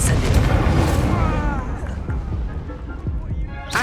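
In the Hogwarts Legacy video game, the Incendio fire spell goes off with a heavy whooshing burst that rumbles and fades over a few seconds. A spoken voice sits over it.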